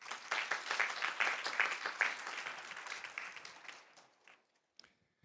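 Conference audience applauding a panelist at a legal meeting in Seoul, a dense burst of clapping that holds for about four seconds, then thins and fades out, with a couple of stray claps at the end.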